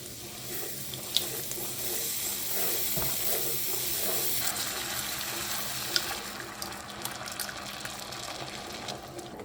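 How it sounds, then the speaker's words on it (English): A whisk or spoon stirs a mustard and half-and-half sauce in a pan on a stovetop burner, making a steady soft scraping with a low simmering sizzle and no talk. "Then we'll continue stirring until it's all smooth."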